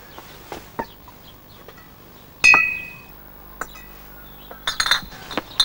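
Glass milk bottles clink together in sparse, sharp taps over a faint background, with one loud, ringing strike near the middle and a quick cluster of lighter chinks toward the end.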